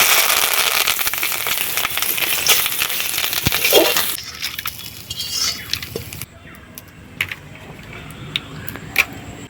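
Turmeric, ginger-garlic paste and curry leaves frying in hot oil give a loud, steady sizzle at first that softens partway through, with occasional spoon scrapes and clinks against the pan.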